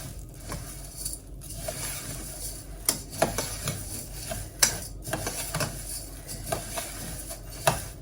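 Vermicelli (sevaiyan) being stirred in ghee, a spoon scraping and clinking against the pan in an irregular rhythm with a faint sizzle underneath, close up and without any talking.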